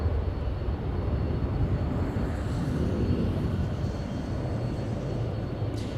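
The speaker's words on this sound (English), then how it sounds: "We have the flagship, lovely Delta. The A350 after its flight from Atlanta." A Delta Airbus A350 jet airliner at Los Angeles airport on a hazy day, its engines a steady deep rumbling roar with broad low-frequency noise, heard from a distance without any voices.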